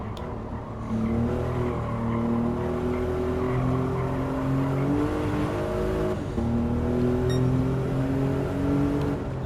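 A heavy car laps the Top Gear test track in Gran Turismo 7, its engine droning and rising in pitch through two acceleration runs with a gear change between them, loud and close with no talk.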